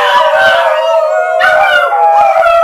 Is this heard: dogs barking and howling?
yes